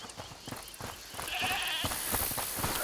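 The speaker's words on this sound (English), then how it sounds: "Listen, is that the goat he talked about?" A goat bleats in the video game A Plague Tale: Requiem: a wavering, nasal cry rises briefly over a busy game soundscape of footsteps and ambient clatter, fairly quiet and in the mid-distance.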